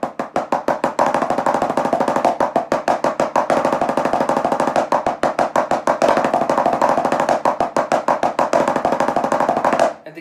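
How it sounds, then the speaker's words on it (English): Even sixteenth-note double-stroke roll on a snare drum during a percussion warm-up, a dense, steady stream of close, loud strokes lasting about ten seconds before stopping, with no voices. "But this time you're going to try to do doubles."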